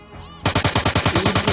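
Gunfire in a zombie shooting video game: after a quiet moment, a rapid automatic burst of about ten loud, evenly spaced shots fired up close.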